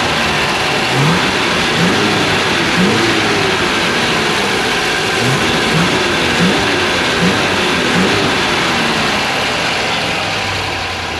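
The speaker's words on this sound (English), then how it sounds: "Give her some revs." A C2 Corvette with a replacement engine from around 1963 idles with a deep, rough rumble in a snowy setting. Close by, it gets a series of quick throttle blips, each rev rising briefly above the idle.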